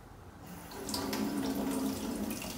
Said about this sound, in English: So I'm gonna put cold water on it